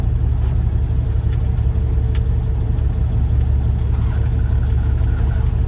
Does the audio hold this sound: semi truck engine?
yes